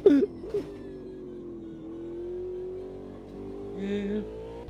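A race car engine accelerates in the Automobilista 2 sim racing game, a steady engine note rising and holding at moderate level after a couple of short bursts, with faint tyre noise near the end and no speech.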